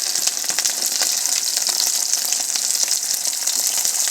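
Fresh fish rubbed with turmeric and salt fries in hot oil, giving a loud, dense, continuous crackling sizzle close up, with no voices.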